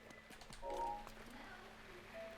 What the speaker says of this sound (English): did you hear that footstep then?